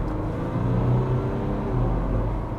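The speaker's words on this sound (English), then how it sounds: "Let some cars through, and then I'm going to do a bit of a acceleration." A Ford Ranger Wildtrak pickup accelerates, its engine giving a steady, close, low rumbling drone that swells slightly as it pulls, with no talk over it.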